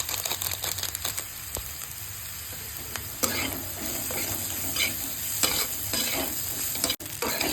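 Chow mein noodles sizzle and fry in a pan while being stirred, with steady scraping and crinkling stir strokes over a constant frying hiss, no talking.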